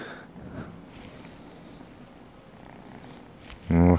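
A young adult cat purrs close by in a low, continuous rumble for several seconds before a sudden loud burst of other noise cuts in at the end.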